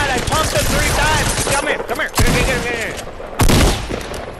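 Pump shotgun blasts and submachine-gun fire in Fortnite, a dense run of close, loud shots with sharp bursts near the middle and end, heard amid voice chat.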